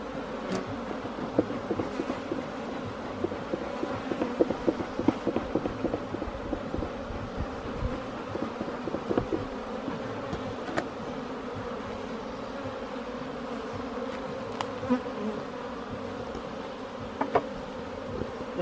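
Agitated honeybees swarm and buzz densely around an open hive during an inspection, a steady droning hum close by with scattered sharper buzzes and small clicks and knocks, no talking.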